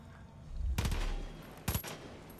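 Gunfire in the video game Far Cry 5: two loud bursts of shots, the first long and rolling, the second shorter, each fading into a low rumble over steady game background.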